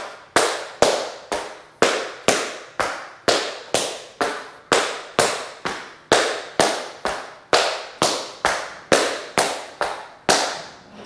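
Tap shoes strike a hard floor in beginner tap steps, drawbacks and a basic Cincinnati: about twenty crisp, close metallic clicks in a steady, even rhythm, roughly two per second, with no voices.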